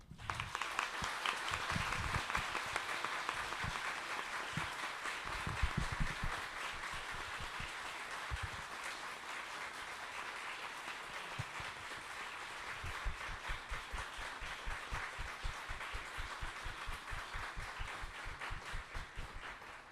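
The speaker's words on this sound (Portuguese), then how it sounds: "o tempo das palmas demonstra o quanto sua fala tocou essa plateia" A roundtable audience at a Brazilian philosophy conference applauds at length after a talk, steady dense clapping that carries on for about twenty seconds, heard at a moderate distance.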